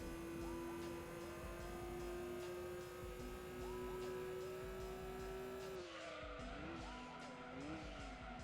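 A race car in a video game runs fast with a steady high engine whine, then the pitch drops and wavers as tires squeal and skid near the end; the sound is continuous and close, with no talk over it.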